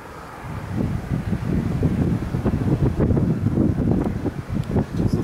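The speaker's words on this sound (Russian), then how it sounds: "На высоте, где я поднимался, адовый совершенно ветер." Strong wind at height on a rooftop in Murmansk buffets the microphone in heavy, rumbling gusts, loud and continuous with no voices.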